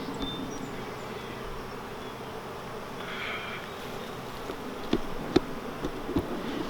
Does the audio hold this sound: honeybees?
yes